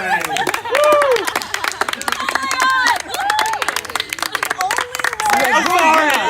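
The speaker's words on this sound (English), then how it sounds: "Come on, round of applause." Friends at a Survivor-style game finale clap and cheer for the winner, scattered claps mixed with excited shouting and overlapping voices close by.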